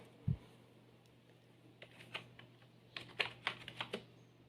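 Keys clatter on a computer keyboard during a basic computer class, with a single thump near the start, then scattered keystrokes that pick up into a quicker burst of typing toward the end, all fairly quiet and without speech.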